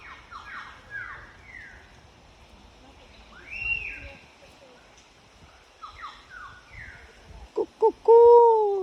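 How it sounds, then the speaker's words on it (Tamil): A bird calls repeatedly in a lush forest with plants and grassy undergrowth, a series of descending whistled notes at moderate distance, followed near the end by a few louder, closer calls. "கூப்பிடுது அந்த குருவி லவ்வர்ஸை கூப்பிடுது"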